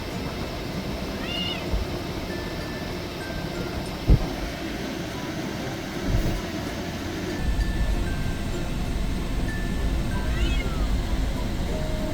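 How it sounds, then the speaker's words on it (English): Two anxious cats meow intermittently inside a moving car on a road trip, a few drawn-out calls spread across steady road and engine rumble, with one sharp knock partway through. "Both the cats were anxious and moved around the whole car"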